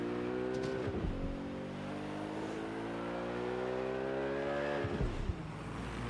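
Car engine revving in the video game Watch Dogs: Legion, climbing steadily in pitch through the gears with two sharp shifts, loud and continuous with no talking.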